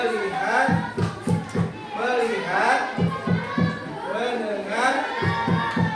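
Schoolchildren in an Indonesian classroom clap a rhythmic focus pattern, short grouped claps in steady bursts beneath their chanting voices.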